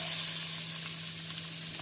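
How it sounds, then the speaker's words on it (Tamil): Fennel seeds, cumin and chopped onion fry in sesame oil in a wok for a mutton bone curry, giving a steady, close crackling sizzle with no voices. "1 ஸ்பூன் சோம்பு, 1 ஸ்பூன் ஜீரகம் நன்றாக பொரியவும் நறுக்கிய வெங்காயத்தை சேர்த்து விடலாம்."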